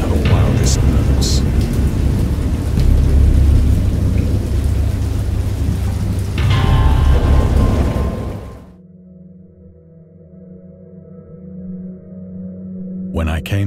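A thunderstorm in the video game Dagon: heavy rain pours and deep thunder rumbles loudly for several seconds, then the storm cuts off abruptly and leaves a quiet, low drone.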